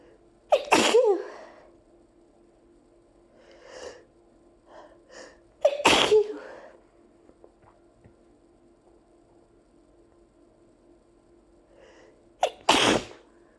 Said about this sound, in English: I still have to sneeze